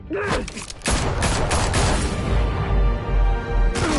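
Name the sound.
gunfire in a Batman Telltale video game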